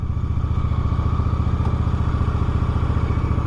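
Motorcycle engine running steadily while riding, a rapid, even low throb with a slight clattery texture, loud and close throughout with no voices.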